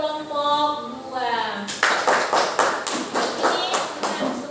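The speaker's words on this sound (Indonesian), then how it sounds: "kasih tepuk tangan untuk kelompok 2" A short burst of scattered hand clapping from a small group, starting after a moment of quiet and continuing for a few seconds.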